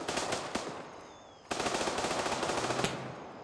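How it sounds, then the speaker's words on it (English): Automatic gunfire in the military shooter Gray Zone Warfare, a dense rapid rattle of bursts that runs almost nonstop, dips briefly, then resumes loudly with sharp individual shots standing out. "Is that you shooting, Mike?"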